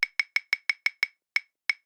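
A dry, clicky triplet percussion loop for an Afro House groove: a quick run of seven sharp, bright woody taps followed by two spaced hits, played alone without voices.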